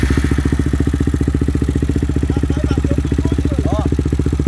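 Honda CG 160 motorcycle fitted with a 240cc kit engine and running on alcohol fuel, idling with a steady, rapid single-cylinder thump close by, with faint voices in the background.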